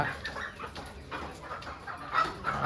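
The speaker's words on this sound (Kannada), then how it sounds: "ನೋಡ್ರಿ ಫಾರಂ ಕೋಳಿ ಹಾಕ್ತಾ ಇದ್ದಾರೆ." Farm chickens clucking at a busy chicken market, with a steady chorus of overlapping clucks and squawks throughout, fairly close and moderately loud, mixed with faint market background noise and no clear speech.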